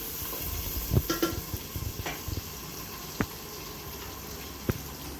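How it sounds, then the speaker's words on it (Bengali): Sliced onions fry in oil and are stirred in a pan while being cooked to light brown for a Bangladeshi goat rezala, giving a soft steady sizzle with occasional scraping stir strokes. Quiet and close, with no talking. "পেঁয়াজটা হালকা বাদামি করে ভাজবো।"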